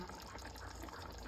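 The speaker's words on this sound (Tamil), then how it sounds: "இப்போ மீதி தண்ணியை தான் ஆட் பண்ணுறோம்" Water is poured into a cooking pot of chicken dum biryani with jeera samba rice, a steady continuous pouring wash that stays loud and close from start to finish, with no pause.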